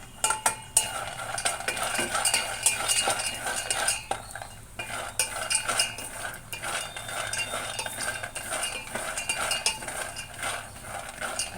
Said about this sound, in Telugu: ఒక ఫైవ్ మినిట్స్ బాగా పల్లీలు వేపుకోవాలి